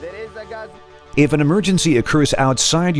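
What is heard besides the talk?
No distinct noise like a dog, phone or traffic.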